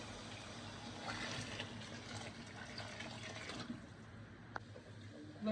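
Hot water is poured into mutton biryani gravy for Nellore-style biryani, a steady, soft gushing and splashing of liquid that runs for several seconds and then tapers, fairly quiet and with no talking.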